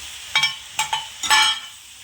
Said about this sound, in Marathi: आणि आपण तो मसाला परतला होता तो असा याच्यात टाकून घेणार आहोत